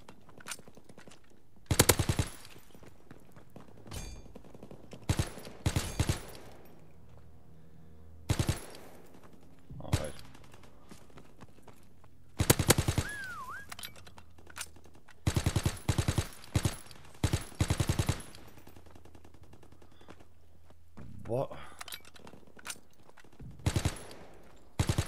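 Call of Duty WW2 prop hunt gunfire aimed at decoys, a series of short, sharp automatic-weapon bursts separated by quiet gaps, some bursts rapid and clustered, loud and close, with faint movement in between.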